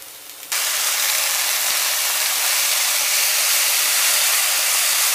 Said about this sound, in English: So now I'm adding the mushroom first.